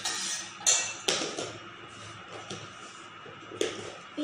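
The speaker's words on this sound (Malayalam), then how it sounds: "നമ്മൾ കുറച്ച് നേരം ഇളക്കിക്കൊണ്ടിരിക്കുക." A metal spoon stirs sugar into water in a cup, giving a few sharp clinks against the sides at irregular intervals over a steady scraping swirl, close and moderately loud with no talking.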